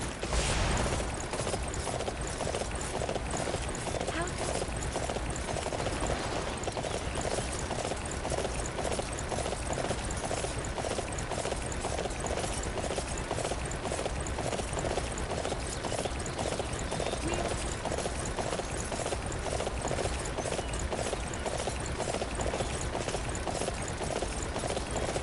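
Horse hooves gallop in the Dynasty Warriors 9 video game as a fast, unbroken clip-clop that runs for a long stretch, loud and close over constant game background noise.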